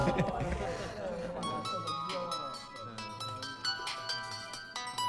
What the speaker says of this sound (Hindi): एक फोन है।